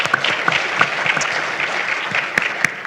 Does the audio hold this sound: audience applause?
yes